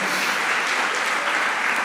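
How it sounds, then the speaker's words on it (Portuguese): Congregation at a Quadrangular church service claps steadily in a dense, continuous wash of applause, moderately loud and close, with no voices standing out. "você pode aplaudir e glorificar o nome poderoso de Jesus"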